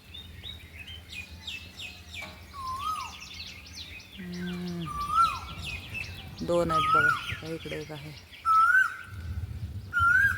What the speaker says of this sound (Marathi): आहा बघा बघा कशी कोयल ओरडती